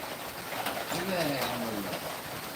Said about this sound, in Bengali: এটা পাখি দেখতে পাচ্ছেন খুবই চমৎকার তারা খাবারের জন্য এখানে আসছে